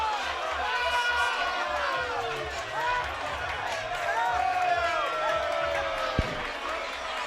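A boxing arena crowd at the Khitrov versus Phipps fight murmurs and stirs in a continuous roar, heard beneath ringside commentators talking over it throughout.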